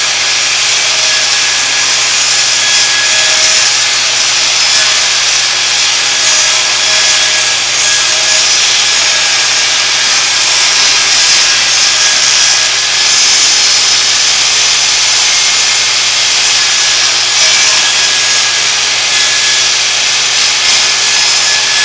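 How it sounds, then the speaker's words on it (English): A Prostormer 8-inch 11-amp table saw rips through wood, a loud continuous high whine and rasp of the blade biting the board, close and steady with no pauses. "If you want some nice straight cuts, there is nothing better than a table saw, and this can do the job"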